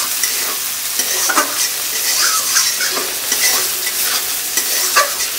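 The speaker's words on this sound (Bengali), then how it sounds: "এখন চলে গেল 4টে গোটা শুকনো লঙ্কা" Whole dried red chillies fry with onions in a pan, a steady close sizzle broken by repeated stirring scrapes and clinks throughout, with no talking.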